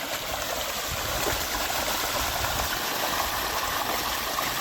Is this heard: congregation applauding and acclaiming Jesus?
no